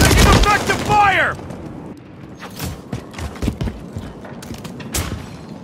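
Gunfire in the Call of Duty MW3 multiplayer video game, a cluster of sharp close shots and bursts following a loud game voice, with scattered further shots later.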